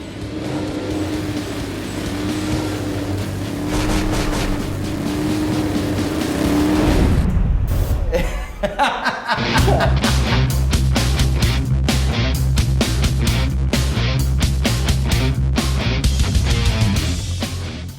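A 5.3 LS crate V8 engine on a dyno drones loudly, then revs up sharply and settles into a hard, steady roar under heavy load.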